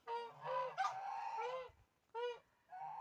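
Several loud, nasal goose honks close by, coming in short bursts with brief pauses between them, outdoors in freezing weather around -19°C.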